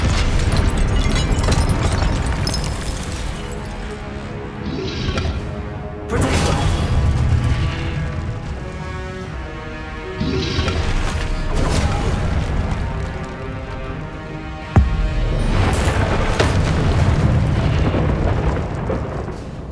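Several Confringo blasting-spell explosions go off in the Hogwarts Legacy video game, loud bursts each followed by rumbling decay, spaced several seconds apart over a game soundtrack.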